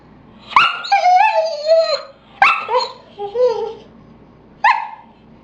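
A therapy dog whimpers and yips in three close bursts, each a sharp yelp sliding into a whiny, wavering cry, loud and near, with short silences between.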